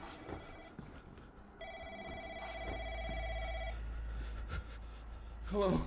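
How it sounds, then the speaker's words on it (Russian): Telephone ringing in the horror game Room 303, a steady electronic ring tone of about two seconds over low background rumble, with brief noises around it. "Телефон."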